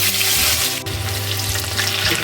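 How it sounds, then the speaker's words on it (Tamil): Crushed garlic cloves frying in hot oil with fennel seeds and fenugreek for a village-style fish curry, a steady close sizzle and crackle with a few stirring scrapes and no talk. "பூண்டு வந்து எண்ணெய்க்குள்ளேயே நல்லா வேகணும்."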